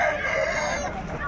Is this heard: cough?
no